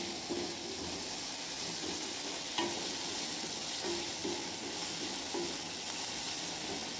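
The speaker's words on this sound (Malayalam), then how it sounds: "കുറച്ച് ഉപ്പും കൂടി ഇട്ട് കൊടുത്തിട്ട് ഒന്നും കൂടി ഒന്ന് ഇളക്കി കൊടുക്കാം വാടി വാടാൻ വേണ്ടിയിട്ട്" Sliced onions with salt stirred in a hot pan, a low, steady sizzle under soft, irregular spoon scrapes and a few light taps, close and fairly quiet, with no one talking.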